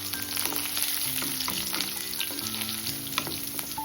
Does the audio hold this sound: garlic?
yes